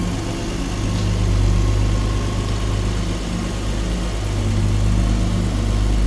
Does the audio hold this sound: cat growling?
no